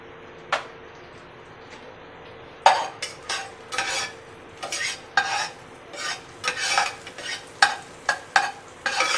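Whole garam masala spices, cinnamon, cardamom, cloves and peppercorns, are stirred in a frying pan with a soft sizzle. A spoon scrapes and clinks against the pan in irregular bursts, close and moderately quiet.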